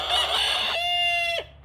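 A rooster crows loudly and close by, a rough call followed by a long sustained tone that cuts off sharply, with no talk over it.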